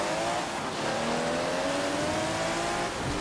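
A Ferrari 375 race car engine roars steadily in the racing game Forza Motorsport 7, its pitch climbing smoothly as it accelerates, loud and close with no pause.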